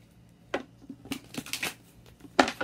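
Tarot cards being shuffled by hand, a few soft riffling and slapping bursts close by, quiet and without talk.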